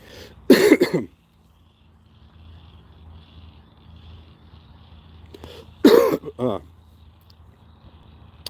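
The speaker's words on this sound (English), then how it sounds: "I'm still coughing" A person coughs in two loud, close bursts, one near the start and another later, with quiet background noise between them.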